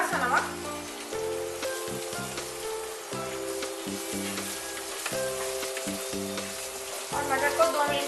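Green peas fry with a little salt in a pan for matar rice, a dense crackling sizzle running throughout with rhythmic stirring pulses, close and fairly loud.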